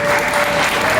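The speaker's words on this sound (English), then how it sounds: "Gerald is getting applause, not blues." Audience applause at a library card event, a brief burst of dense, even clapping from a crowd, fairly loud and close, without talk.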